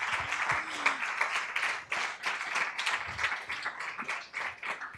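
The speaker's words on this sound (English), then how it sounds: "So I wanted to, oh yeah, clap." Audience members at a design systems meetup clap in a loose, uneven patter, individual claps audible in the room with a voice briefly present early on.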